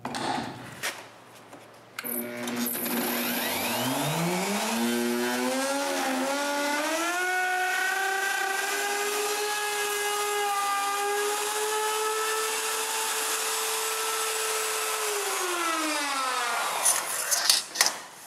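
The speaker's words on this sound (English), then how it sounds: "I can route away the box's holes." A router whines up to speed and holds a loud, steady high-pitched drone cutting wood for over ten seconds before spinning down, close by.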